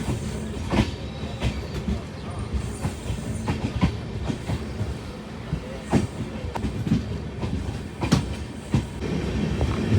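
Train 16206 from Mysuru to Talguppa runs along a curve, giving a steady close rumble with a scatter of sharp wheel clacks spread through the run and no voices.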